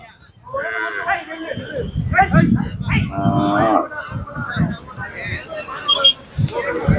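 Cattle lowing loudly at a crowded native cattle market, amid excited voices and shouting nearby, with the moos blending into the chatter.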